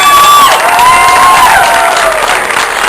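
A large crowd at an outdoor community event cheers and applauds in a loud, steady wash, with whoops and high whistles rising above it and no gap for the full stretch.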